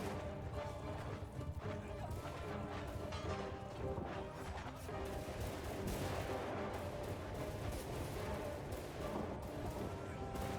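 Gunners fire volleys on a samurai battlefield in Shokuho, a dense and continuous din of crackling shots, crashes and clashing that stays loud and busy throughout.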